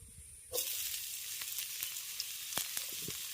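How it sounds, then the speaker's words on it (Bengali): Finely chopped onion hits hot mustard oil after near silence, bursting into a sudden loud sizzle that settles into a steady hiss with scattered sharp crackles, close by. "তেলটা গরম হলে তেলের মধ্যে দিয়ে দিচ্ছি কুচনো পেঁয়াজ"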